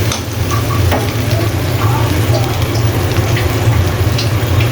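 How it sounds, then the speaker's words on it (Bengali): Masala frying in hot oil while being stirred and cooked down, giving a steady, dense sizzle that carries on unbroken at close range. "এখন আমি নেড়ে চেড়ে দিচ্ছি। মশলাটা ভালো মতো"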